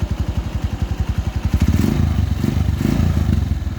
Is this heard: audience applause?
no